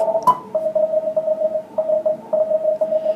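A weak CW Morse signal on a radio receiver beeps in short and long tones through hiss and static, the keyed tone clear but surrounded by noise, with no voices.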